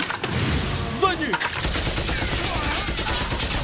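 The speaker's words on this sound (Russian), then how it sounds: "Выстрел." Gunfire in an anime episode, a dense burst of sharp shots and bangs running continuously under a loud, busy soundtrack.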